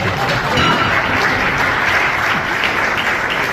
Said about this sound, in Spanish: Aplaudan, es un buen chiste.